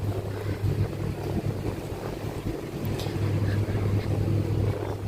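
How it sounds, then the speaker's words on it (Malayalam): A cool wind blows outdoors at Sentosa, Singapore, a steady broadband rush with gusty buffeting on the microphone and a low rumble throughout, no voices. "ഒരു നല്ല തണുത്ത കാറ്റുണ്ട് കേട്ടോ."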